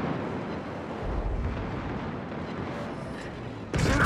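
Heavy naval gunfire from a warship in World of Warships, a continuous dense roar of booming salvos with a sharper burst near the end, loud and up close.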